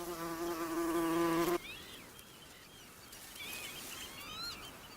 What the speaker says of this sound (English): the Macaire hums with rare bees like the moss carder and the great yellow bumblebee